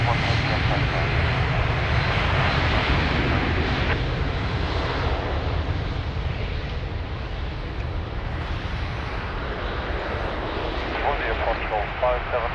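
Fixed-wing airliner taking off from runway 02 at Lisbon Airport, a steady loud engine roar sustained throughout, with radio talk mixed in.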